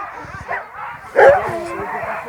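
Small dogs, pet companions greeted outdoors at a race start in Lanuéjols, yip and bark briefly in short bursts close by, with a louder burst partway through, mixed with a person talking over them.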